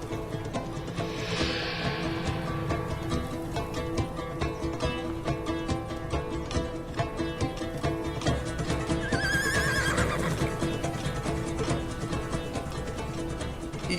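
A horse neighs over dense, continuous orchestral music, with a whinny rising out of the mix at the start and another near the end.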